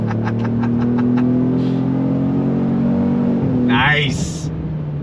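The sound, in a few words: 2025 Ford Explorer Active 4-cylinder turbo accelerating on throttle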